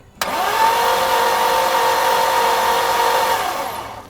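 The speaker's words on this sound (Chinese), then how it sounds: "我们现在开始进行第一缸的缸压测试。 好，启动。" The engine of a Mercedes W126 560SEL, with a burnt first cylinder that has no compression, cranks during a compression test, a loud, steady mechanical whir that starts abruptly and holds evenly for about four seconds before easing off.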